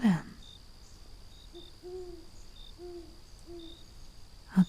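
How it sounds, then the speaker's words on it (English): A distant owl hoots several times in a quiet night wood, soft repeated calls spaced out over a faint background hiss, with faint chirps and a couple of brief rustles at the edges. "a distant owl."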